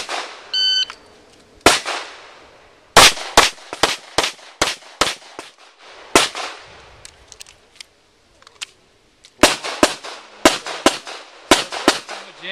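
Pistol shots ring out at a USPSA shooting match, a beep starting a string of sharp, loud cracks in quick irregular bursts with brief gaps, echoing across an outdoor range.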